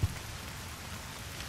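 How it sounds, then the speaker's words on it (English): Heavy rain in the Fallout New Vegas video game, a steady even hiss of downpour with a faint low rumble underneath and no voices. "it's raining. It's pouring down hard, man."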